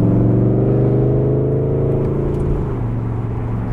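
Engine of a modified 2017 Chevrolet Camaro SS convertible while driving, a loud, steady low rumble with a smooth drone that shifts slightly in pitch as it cruises, with no voices.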